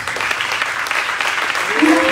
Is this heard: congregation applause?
yes